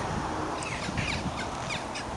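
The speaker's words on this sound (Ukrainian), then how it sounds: "Не знаю, чи на дощ птахи кричать, чи на мене." Several harsh crow caws ring out repeatedly at a moderate distance over a constant background rush of wind or traffic.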